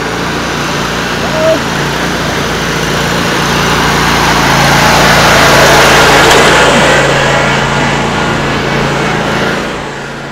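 A lawn mower engine runs steadily close by, a loud continuous drone that swells slightly in the middle and eases off toward the end.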